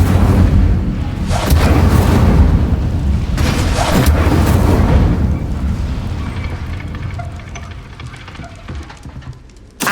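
Repeated Incendio fire spells in Hogwarts Legacy roar and crackle in a loud, sustained wash of flame with several sharper flare-ups, gradually thinning out toward the end.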